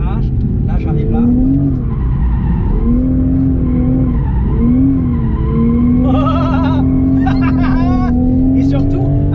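A Toyota GR Supra drifting in oversteer, its engine droning steadily while the tires squeal and skid in long wavering streaks, loud and close, with someone talking over it.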